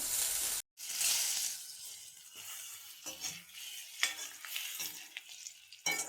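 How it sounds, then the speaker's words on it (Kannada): A cube of butter melts in a hot pan on its way to a cream sauce for pasta, giving a steady close sizzle with stirring scrapes that briefly cuts out near the start. "ಮತ್ತೆ ಒಂದು ಕ್ಯೂಬ್ ಆಫ್ ಬೆಣ್ಣೆ ಹಾಕ್ತಾ ಇದ್ದೀವಿ"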